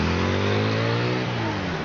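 A car or motor vehicle passes close by on a busy street near a coal-fired power plant in Chicago, its engine note rising and then shifting, loud and steady, with no talk.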